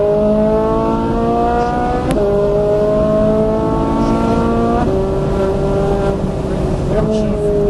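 A Ferrari 458 Italia or Nissan R35 GT-R on the ExoticsRacing Las Vegas circuit accelerates hard, its loud engine note climbing steadily and dropping briefly at each of three quick upshifts.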